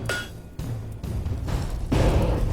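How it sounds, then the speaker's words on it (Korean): Hammer blows land on twisted steel rods during pattern-welded sword forging, a few separate metallic strikes and thumps in an irregular rhythm, close and moderately loud. "먼저 철근을 함께 꼬아 계속 망치질을 한다"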